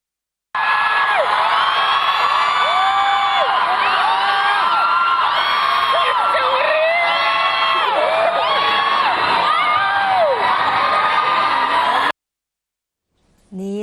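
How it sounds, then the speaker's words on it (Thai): A large crowd at Suvarnabhumi Airport, Bangkok, welcoming Miss World 2025 screams and cheers loudly and continuously, shrill voices overlapping, before cutting off abruptly into silence. "เสียงกรี๊ดดังกระหึ่มแบบนี้เลยนะคะ"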